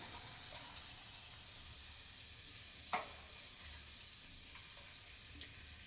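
Potato bhaji fritters hit hot oil, giving a steady, soft sizzle with a few small crackles and pops.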